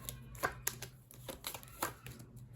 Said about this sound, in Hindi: कुछ कार्ड्स निकालती हूँ